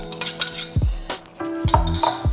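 Frozen mixed vegetables are stirred into a vegan Mexican one-pot meal, giving clinks and scrapes of a utensil against the pot in quick irregular strokes, close and clear.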